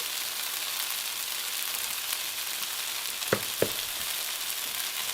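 Ground cumin toasting with softened vegetables in a pot, a steady bright sizzle and frying hiss, with two brief knocks near the end, close and without voices.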